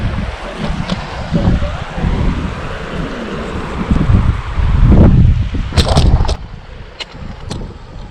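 Water sloshes and splashes around steady footsteps as someone wades through a cold, flowing mountain river on the Four Pass Loop, Maroon Bells, with a rushing current and wind in the background.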